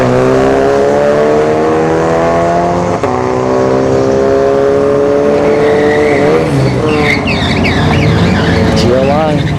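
Drag strip race between a Ford F-150 pickup and a GLI, loud engines roaring and revving with the truck's tires spinning and squealing, continuous and close, with a commentator talking over it.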